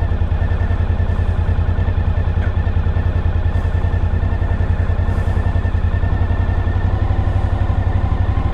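A Suzuki V-Strom DL1000 motorcycle engine runs steadily with a loud, close, rapid pulsing throb that holds an even rhythm, as if idling or cruising, with no talk over it.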